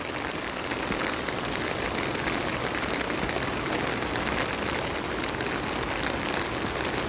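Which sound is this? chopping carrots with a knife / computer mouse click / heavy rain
heavy rain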